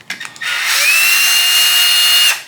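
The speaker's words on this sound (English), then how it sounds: "So I'm gonna go ahead and take these screws out." A power drill spins out screws from the headlight bucket of a 1973 Chevrolet Impala, one sustained, close and loud whine lasting about two seconds after a short start-up, with no talking.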